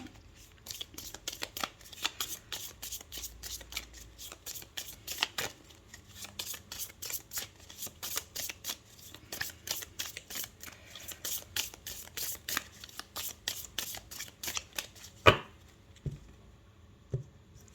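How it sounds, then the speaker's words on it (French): A deck of oracle cards is shuffled by hand up close, crisp rapid riffling and flicking in repeated bursts, then a sharp tap and quiet near the end. "on va faire un tirage avec l'oracle Spirit de Mariana"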